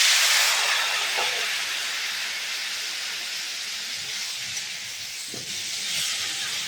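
Water poured into spices frying in a pan for a fish curry with elephant foot yam, with chili powder and green chili, sets off a loud, close, steady hiss that eases slightly over several seconds.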